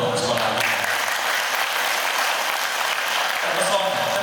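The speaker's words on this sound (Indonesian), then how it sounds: "Boleh tepuk tangan dong sekolah akidah" A seminar audience at an Islamic school parenting event applauds steadily for about four seconds, a dense, even wash of clapping that holds at a constant level throughout.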